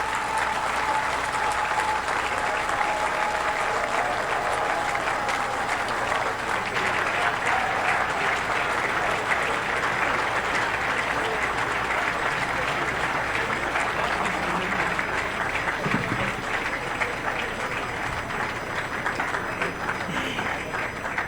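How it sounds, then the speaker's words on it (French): Loud, sustained applause from a large crowd at an official ceremony opening the Cameroon football federation offices, steady dense clapping throughout with a faint tone and murmurs beneath. "Je vous prie d'applaudir très très fort."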